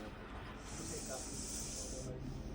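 A venomous Russell's viper hiding in a window gives a sustained, breathy hiss lasting over a second, loud and close, against a noisy background.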